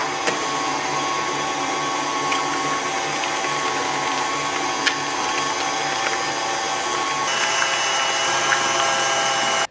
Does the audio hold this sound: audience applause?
no